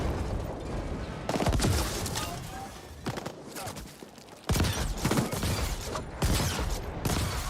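A powerful gun in the video game RetroCity fires dense, roaring bursts of shots and explosions that break off and start again several times. A voice talks underneath.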